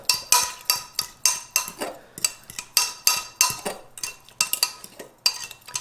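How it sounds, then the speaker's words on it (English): A fork stirs and blends sauce ingredients for keto Korean beef in a bowl, producing a quick, steady series of sharp clinks and scrapes against the dish, close and alone. "all we're going to do is we're going to just stir and blend all this stuff up"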